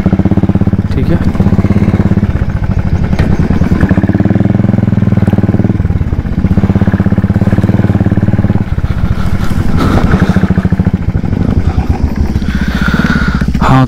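A motorcycle engine runs on a hill track, loud and close, its steady rumble interrupted by brief dips as the rider shifts or eases off, while people talk over it.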